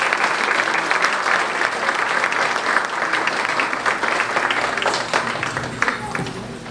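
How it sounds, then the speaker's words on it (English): An audience at a Rangoli 2023 community celebration in the USA claps for performers, producing dense, sustained crowd applause that stays loud and steady throughout. "Please, a huge applause for them."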